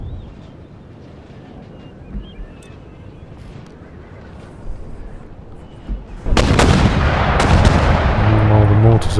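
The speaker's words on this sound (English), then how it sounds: "while the mortars are pumping out shells like they're going out of fashion" Mortars fire shells in Empire: Total War, with scattered thuds at first and then a loud, dense barrage of blasts and crackling impacts that fills the last few seconds.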